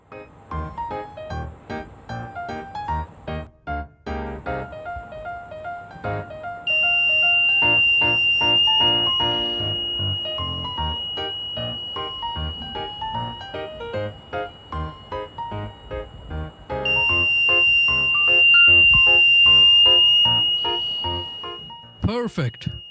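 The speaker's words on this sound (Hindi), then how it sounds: "बेस गीली होने की वजह से अलार्म रैंडमली एक्टिवेट हो रहा है" A homemade rain sensor's buzzer alarm, set off by a drop of water, sounds as a steady high-pitched electronic tone in two sustained bursts of several seconds each, loud over ongoing talk and background sound.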